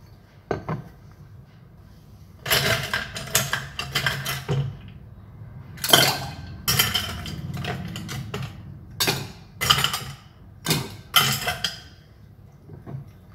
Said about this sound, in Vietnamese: chúng ta cho đá và chúng ta lắc từ 8 đến 10 lần